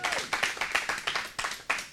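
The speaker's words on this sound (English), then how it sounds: "give him another big round of applause, everybody" Audience applause at a live TV talk show, a burst of individual hand claps in an uneven rhythm with a crowd murmur underneath, close and moderately loud.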